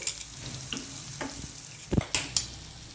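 Green paste of ginger, chili and garlic sautéing in hot oil for vada pav, a low sizzle broken by several scraping stirs and clinks of a spoon against the pan.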